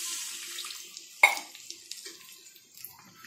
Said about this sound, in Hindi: 1 गिलास पानी डाल देंगे।